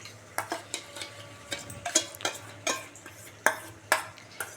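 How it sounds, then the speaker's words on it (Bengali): A spoon stirs beaten sour curd into masala in a pan, giving a run of separate scraping strokes and soft clinks against the metal over a faint sizzle, close and moderately loud, with no talking. "এই যে এবার ফ্যাটানো টক দইটা দিয়ে দিচ্ছি"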